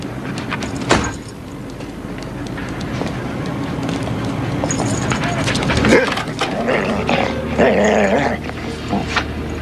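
Dogs growl and sniff while inspecting a boat in a film scene, low rumbling snarls mixed with movement, door-like sliding noises and talking voices.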